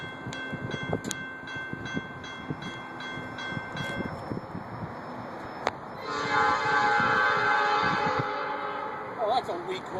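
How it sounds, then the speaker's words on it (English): A passing train sounds a thin, weak horn in a long sustained blast, preceded by rumbling rail noise and faint bell-like tones, with people talking nearby. "Oh, that's a weak horn."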